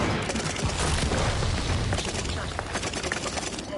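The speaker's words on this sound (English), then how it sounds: "Enemy glide bomb coming in hot." A glide bomb blast in Call of Duty Vanguard, loud and sustained, with dense rumbling explosions and crackling gunfire filling the whole stretch at steady, heavy volume.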